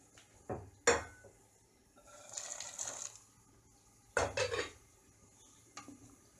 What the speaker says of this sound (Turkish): Tekrar karıştırıyorum